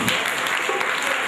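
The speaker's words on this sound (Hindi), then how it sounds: "जोरदार ताली बजा दीजिए।" A short burst of audience applause at a Jain religious play, dense and steady clapping from many hands throughout.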